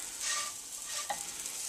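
Waffles browning in a frying pan give a soft, steady sizzle, faint and close, with a brief scrape partway through.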